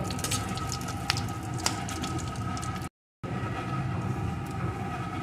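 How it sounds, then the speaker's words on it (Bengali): Dried red chili and black cumin seeds frying in hot oil in a pan for a mustard crab dish, giving a steady dense sizzle and crackle throughout, with a brief silent gap partway. "এখন এই তেলের ভিতরে দিয়ে দেবো একটা শুকনো লঙ্কা একটু কালো জিরে এগুলোকে একটু ভেজে নেব"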